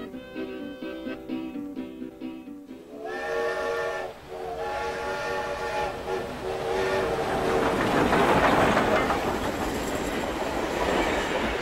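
The presidential train of Roosevelt's era sounds a long steam whistle, then rolls on with a building rumble and clatter of wheels on rails, steady and fairly near.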